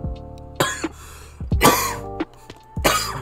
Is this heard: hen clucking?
no